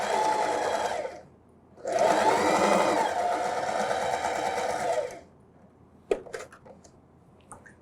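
A sewing machine stitches a dish towel in two close, steady runs, the second longer, with brief pauses between and a few small clicks and handling sounds afterward.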